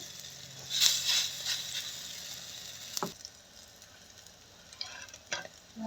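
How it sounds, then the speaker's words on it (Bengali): Scented-leaf chapatis laid into hot oil and fried, with a burst of loud sizzling that fades to a softer hiss, then scraping and a few crackles as they are turned. "তেল গরম হয়ে গেছে এবার দিয়ে দিচ্ছি এভাবে আমি সবগুলো ভেজে নেব"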